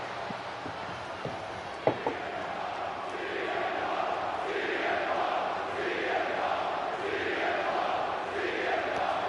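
A video game arena crowd in WWE 2K25 roars steadily through a Monday Night Raw entrance ahead of a CM Punk rematch, a dense wash of cheering that swells in rhythmic waves after a couple of sharp pops early on.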